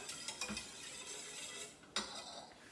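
A whisk stirs egg yolks into caramel pie filling in a pot, soft scraping and light clinks against the metal over a low background hum, fairly quiet, with one sharper tap near the end.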